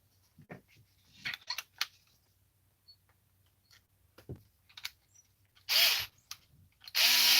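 A cordless power driver used on a Team Redcat TRMT 8E RC truck, with scattered clicks and handling noise of tools, then two loud, close bursts of driver whirring near the end, with no speech.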